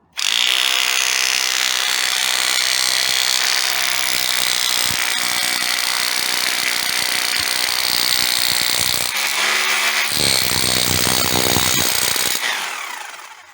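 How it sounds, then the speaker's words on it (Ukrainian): A rotary hammer in chisel mode chisels hardened concrete out of a mixer with a dense, loud, continuous pounding rattle, briefly stopping and restarting before winding down at the end. "На перфораторі включаємо отбойник"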